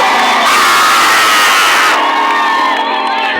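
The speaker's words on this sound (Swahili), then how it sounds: "Wapi vigelegele vizuri vimilifu?" At a gospel concert in Kakuma, a large crowd erupts in loud, sustained ululation and cheering, with high trilling voices layered over a dense roar that continues from start to finish.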